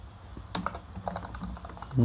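Someone types a code comment on a computer keyboard, producing a few quiet, scattered keystrokes against a soft background.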